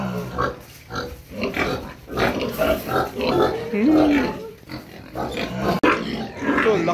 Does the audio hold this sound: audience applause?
no